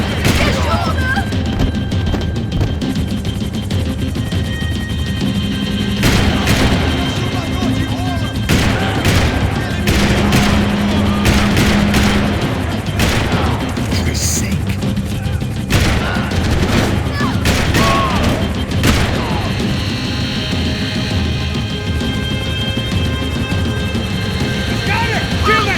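Max Payne 3 video game gunfire crackles in repeated sharp bursts and volleys for nearly half a minute, loud and close, mixed with crashes, engine rumble and shouted voices.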